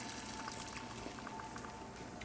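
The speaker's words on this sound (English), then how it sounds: "pour the egg white in the pan." Egg white poured into a hot pan gives a faint, steady sizzle with a soft liquid patter. It runs unbroken for a couple of seconds, with no talking.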